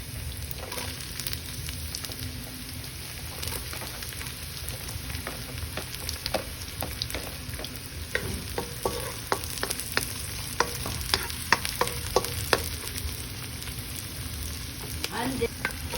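Garlic and onions sauté in a pan for pork rib caldereta, a steady close sizzle broken by scraping stirs that grow sharper and more frequent toward the end, with a faint constant high whine behind.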